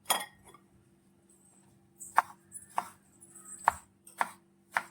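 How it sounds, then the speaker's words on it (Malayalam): Knife chopping ripe mango on a cutting board for a mango salad: five or six sharp, separate chops spaced about half a second apart, close and clear over a faint steady hum. "ഈ പരുവത്തിന് നമ്മൾ മാങ്ങ കട്ട് ചെയ്തെടുക്കുക"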